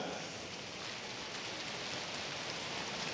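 A church congregation imitating the sound of rain together, producing a dense, steady, faint wash of hiss-like patter that closely resembles rainfall, continuous and even throughout with no talk.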